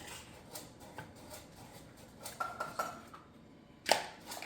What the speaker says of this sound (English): I'm gonna go ahead and crack the eggs and get the eggs ready.